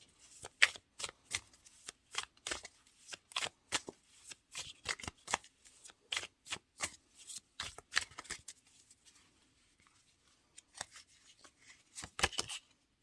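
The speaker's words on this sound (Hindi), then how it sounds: "अभी मैं इस कार्ड को सही रखती हूँ और ये आखिरी निकाल रही हूँ मैं" Tarot cards riffled and shuffled by hand at close range in rapid bursts of crisp flapping, pausing briefly before a final quicker run of shuffles, with no talking.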